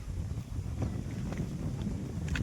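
Steady breeze from open farm fields rushes and buffets against the microphone, a low constant blustery rumble with no voices.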